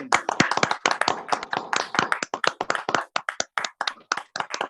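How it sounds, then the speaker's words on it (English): A small audience at a product launch for Tiens Cordyceps in India claps loudly and close. Crisp individual handclaps form a dense round that thins toward the end. "Let's give it a big round of applause,"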